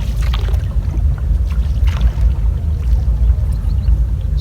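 Water gurgling steadily at the bow of a rowed wooden boat on a village river in rural Bengal, a continuous close, loud wash with soft splashy bursts and low rumbling wind noise.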